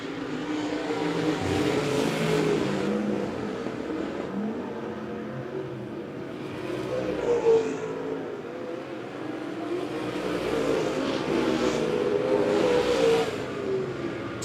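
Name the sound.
USRA stock cars racing at Monett Motor Speedway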